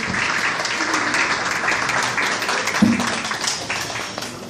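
Audience applause at an honour plaque ceremony for a local newspaper's seventh anniversary in Ceyhan, Turkey; steady, dense clapping from a crowd, moderately loud and continuous throughout with no talk over it.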